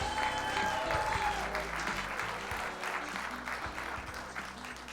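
Sustained audience applause fills a ballroom at an education innovation awards ceremony in San Diego, steady and loud throughout, with faint music and a voice murmuring underneath.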